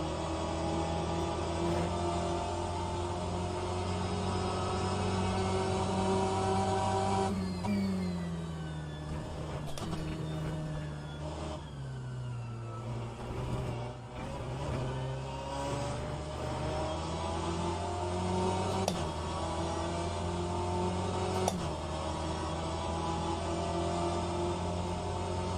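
A Peugeot race car engine in the sim racing game Le Mans Virtual drones steadily at high revs, with pitch dipping and rising through gear changes and corners, continuous and fairly close.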